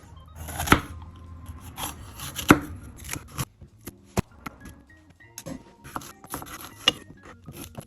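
Vegetables are chopped with a knife on a cutting board, sharp irregular knocks and taps at close range, alone with no voices.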